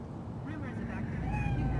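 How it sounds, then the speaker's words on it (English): A cat in Cyberpunk 2077 gives a couple of short, rising meows close by, heard over a low ambient hum with a voice speaking at the same time. "Chill, just a cat."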